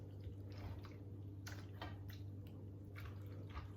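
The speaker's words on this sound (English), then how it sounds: "I'm just going to give this a good stir again." Pulled pork being stirred through barbecue sauce in a pot, quiet wet squishing and sticky slapping strokes repeating in a loose rhythm over a faint steady hum.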